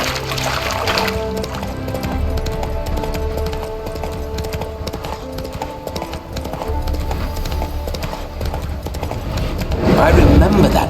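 Horse hooves in the video game The Witcher 3, a steady run of clip-clopping under game music and voices, with a louder swell near the end.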